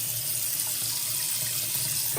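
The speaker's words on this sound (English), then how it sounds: "I'm going to turn on my hot water." Hot water runs steadily from a newly installed kitchen sink faucet, a constant close hiss and splash with no pauses.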